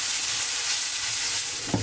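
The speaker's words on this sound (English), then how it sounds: "I'm just going to cook this for about 2 to 3 minutes, stirring all the time" Prawn curry with coconut milk sizzles steadily in a frying pan, a continuous close hiss with a soft scrape of the stirring spoon near the end.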